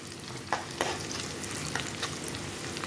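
Garlic fries in oil in a pan for chicken adobo, a continuous soft sizzle broken by a few sharp stirring clicks and scrapes, close and quiet with no talking.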